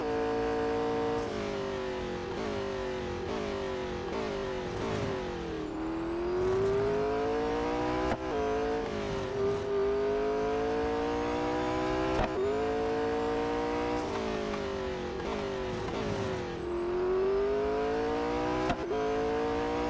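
A race car engine in the Real Racing 3 video game revs hard and continuously, its pitch climbing through repeated gear shifts that drop and rise again, loud and steady throughout with no talking.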